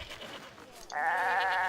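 A goat at a goat farm in the Roman city-building game CivCity Rome gives one sustained, wavering bleat, loud and close. It follows a brief quieter stretch of game ambience.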